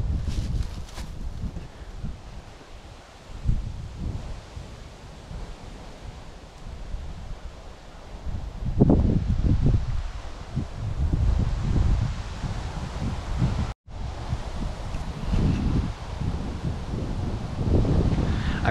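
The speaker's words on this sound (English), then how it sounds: "a 50 mile an hour wind coming off the lake" Strong wind of about 50 mph blows in off a lake, roaring and buffeting the microphone in heavy gusts that swell and fade, loud and continuous with no talk.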